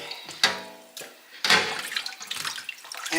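Lime soaking liquid being poured off turkey wings, a splashing pour that comes in several uneven gushes and then settles into a steady trickle of draining water.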